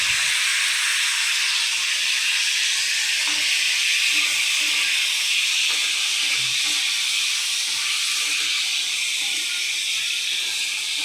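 Raw mango pieces frying in a pan after tempering for a sour mango dal, a steady, even hiss of sizzling oil held close throughout, with faint clatter and no talk.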